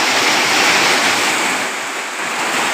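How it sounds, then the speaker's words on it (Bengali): Heavy rain pours down as a dense, continuous roaring hiss, loud and unbroken over the whole stretch, with no voices. "প্রচুর পরিমাণে বৃষ্টি হচ্ছে।"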